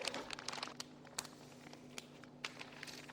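A plastic freezer bag holding meat crinkles softly as air is pressed out, with quiet, irregular crackles and rustles close by.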